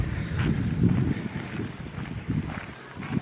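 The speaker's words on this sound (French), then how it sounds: "Heureusement qu'il y a un peu de vent" A gentle wind rumbles steadily across the microphone outdoors, a low, soft buffeting with small gusts.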